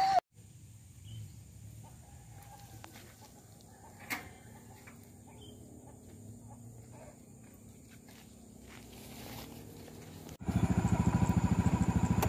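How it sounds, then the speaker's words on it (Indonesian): Quiet outdoor ambience with scattered faint sounds, then a motorcycle engine suddenly roars up loud and close, chugging steadily. "Ada motor."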